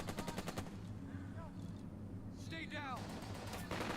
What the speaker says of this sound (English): You guys can still fire with MG.